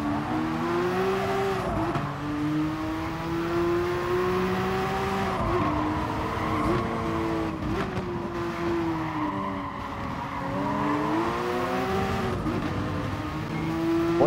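A Porsche 919 prototype race car in Gran Turismo Sport screams along the track, its engine rising and falling through gear changes with tire squeal mixed in, and the loud engine drone runs without a break.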